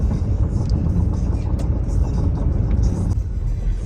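A vehicle passes along a road beside a potato, peanut and corn field, a steady close rumble of engine and tire noise with no clear approach or fade.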